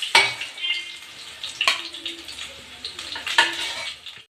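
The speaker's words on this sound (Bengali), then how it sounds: "এই জন্য আমি অল্প করে এগুলোকে ভাজা করে তুলে নিচ্ছি" Boiled potatoes sizzle steadily as they fry in a pan for a fish-stuffed potato dish. A utensil scrapes and clinks against the pan at a few sharp moments, and no one talks.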